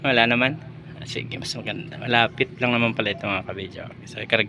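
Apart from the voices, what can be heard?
No everyday noises stand out.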